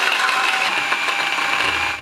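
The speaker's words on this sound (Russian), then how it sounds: "Филе мы перекладываем в миксер, накрываем и просто превращаем в пасту." A kitchen blender whirs steadily as it purees raw fish fillet into a paste, a loud, close, continuous motor whine that cuts off at the end, with no talking.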